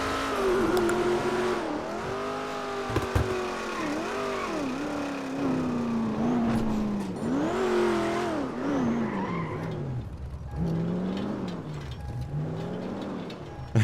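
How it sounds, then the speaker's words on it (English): A rattly car engine in GTA 5 revs and surges continuously, its pitch rising and falling with tire squeals, loud and close throughout with no talking. "This car sounds so rattly"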